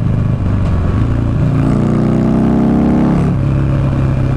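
A 2009 Buell Lightning Long XB12SS motorcycle engine revs up, its twin-cylinder roar climbing steadily in pitch, then dropping back abruptly near the end, loud and close with road rumble beneath.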